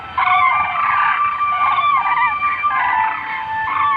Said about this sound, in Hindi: सर्दियों के मौसम में डेमोसेल क्रेन्स यहां पहुंचते ही जोर जोर से चिल्ला के अपने आने की खबर देते हैं